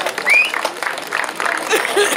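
Applause for the Belgian Master 2 mountain-bike champion at an outdoor MTB race ceremony in Malmedy, crowd clapping and some chuckles under a nearby announcer's voice.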